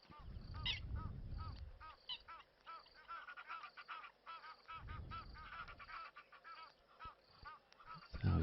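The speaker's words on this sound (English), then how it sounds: "Our Egyptian geese making a racket." Egyptian geese honking repeatedly at a moderate distance, a busy overlapping racket over a low rumbling background.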